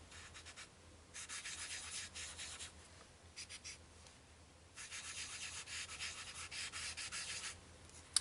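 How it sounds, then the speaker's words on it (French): Eraser rubbed back and forth on drawing paper, quiet scratchy strokes in several bursts separated by short pauses. "Je vais gommer pour pas que ça aille jusqu'à la lune."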